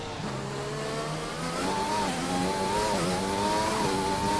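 A Formula 1 race car engine in the F1 2020 video game, running in standard engine mode, drones steadily and then climbs and dips in pitch through gear changes, loud and continuous with no talking.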